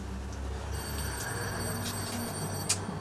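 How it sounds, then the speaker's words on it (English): A telephone ringing in a room, thin electronic rings repeating at a distance under a steady low hum, fairly quiet overall. "Let's wait for that to stop ringing."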